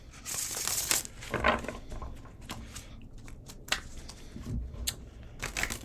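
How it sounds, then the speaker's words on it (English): Tarot cards being shuffled and riffled in short crisp bursts, papery flutters and taps repeating close by, with no talking. "let's just give these cards some shuffles"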